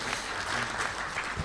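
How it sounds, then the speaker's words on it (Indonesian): Participants at a webinar give a round of applause, a short, dense, steady burst of many hands clapping without pause. "Kita beri tepuk tangan."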